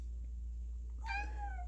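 A domestic cat gives a single clear meow near the end, rising then falling and lingering briefly, heard close against a quiet room with a low steady hum underneath.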